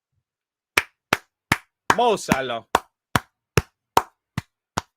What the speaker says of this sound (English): You have to applaud it.